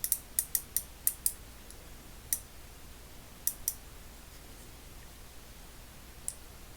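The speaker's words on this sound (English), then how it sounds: "this is what it looks like when it's ratcheting." Sharp, dry clicks from a Channellock ratchet mechanism being worked by hand: a quick run of about six evenly spaced ticks, then a few scattered single clicks, close and quiet over faint background hiss.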